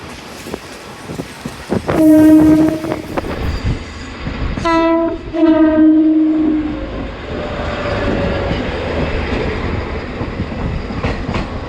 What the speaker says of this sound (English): The train has just arrived at its intermediate station.